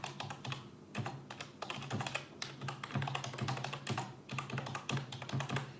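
Typing on a computer keyboard into a text command bar, with quick irregular clicks of keys, soft and close, continuing without speech.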